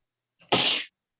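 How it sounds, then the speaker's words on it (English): One short sneeze from a person during a quiet evening talk, a faint intake then a sharp burst lasting under half a second, close and alone. "I need to sneeze, I think"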